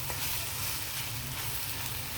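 Tomatoes cooking down for onion tomato chutney in a pan, giving a steady, soft sizzle with faint bubbling that continues evenly throughout, close and fairly quiet with no talking.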